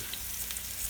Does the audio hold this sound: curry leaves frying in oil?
yes